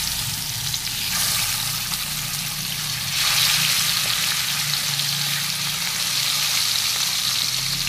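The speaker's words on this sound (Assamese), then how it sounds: "এতিয়া আমি মাছখিনি ফ্ৰাই কৰি ল'ম।" Fish fries in hot mustard oil with a continuous close sizzle and crackle that grows louder partway through as more fish goes into the pan.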